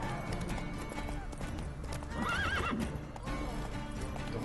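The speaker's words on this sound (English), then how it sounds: "The horse got very scared then as well." A horse in the Witcher 3 video game whinnies loudly with a rising, wavering call while hoofbeats clop steadily beneath, all set against a dense, busy game soundtrack.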